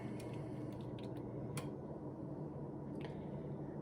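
Eggs, a little old, cracked on a counter and dropped into a hot pan for bird's nest eggs: a few sharp cracks and soft drops over a steady, close sizzle.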